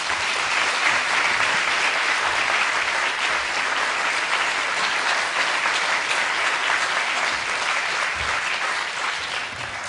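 A church congregation applauds to welcome the pastor, with steady, full clapping from a large crowd sustained without a break throughout.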